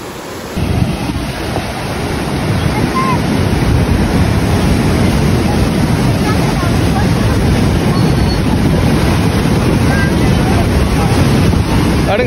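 Water pours over the Vavunikulam reservoir spillway in a loud, unbroken roar, with wind buffeting the microphone throughout.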